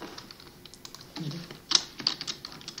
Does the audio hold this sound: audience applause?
no